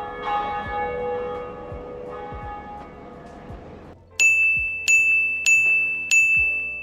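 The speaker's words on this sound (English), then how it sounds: "We rung our first bell of awakening." Bell of awakening in the video game Dark Souls, four loud, resonant bell strikes in an even rhythm, each one ringing out and then fading, after a quieter stretch of lower tones.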